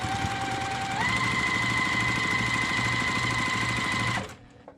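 A sewing machine stitches quilt pieces for a flying geese block in a fast, even mechanical whir with rapid needle chatter close by, speeding up after a second, then stopping abruptly near the end.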